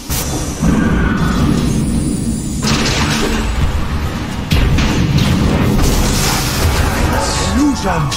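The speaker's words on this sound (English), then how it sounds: "Radiant's middle tower is fallen" A tower collapses in a Dota 2 pro match, with heavy booming impacts and crashing bursts over dense battle noise, and an announcer voice speaking through it.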